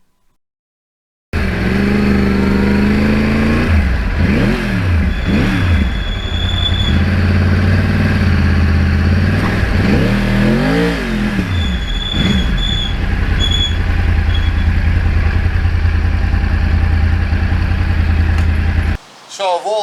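Yamaha R1 crossplane motorcycle engine, loud and close, revving repeatedly in rising and falling sweeps over a steady idle for most of the span, then cutting off abruptly near the end.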